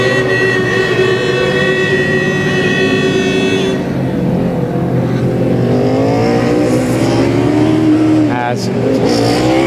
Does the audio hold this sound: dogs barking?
no